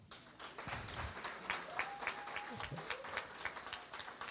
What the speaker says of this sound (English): And Dimi, you deserve a clap.